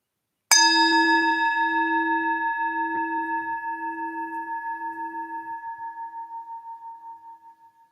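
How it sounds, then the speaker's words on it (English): A single meditation bell is struck once and left to ring, its bright metallic tone sustaining clearly and decaying slowly with a gentle pulsing shimmer over several seconds, alone in a quiet room. "When you hear the next bell, use this bell to draw a few deep breaths in"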